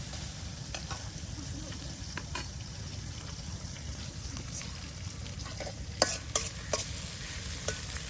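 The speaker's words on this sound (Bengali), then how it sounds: "এটাকে আপনার তেলের সাথে খুব সুন্দর করে ভালোভাবে একদম ভাজি ভাজি করে নেওয়া হবে।" Chopped onion and chili fry in hot oil in an outdoor village kitchen, a steady dense sizzle with occasional stirring scrapes against the pan, close and continuous.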